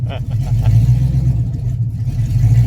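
A project car's engine fitted with an 80mm throttle body idles steadily and loudly up close, a deep continuous rumble with a slightly uneven, twitchy character throughout.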